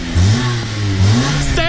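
Boxer engine of a 2002 Subaru Impreza WRX revving up twice in quick succession, loud and close, each rev rising in pitch before dropping back to idle.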